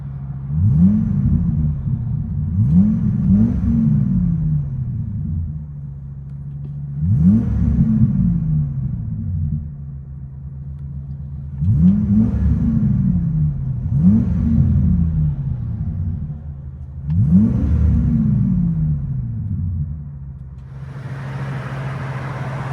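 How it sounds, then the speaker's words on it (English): A deep 6.8L V10 engine in a Ford Excursion with a Magnaflow exhaust and 3-inch pipe rumbles from inside the cabin, revving up in five or six repeated bursts that each swell and settle back to a low idle. "massive V10 motor"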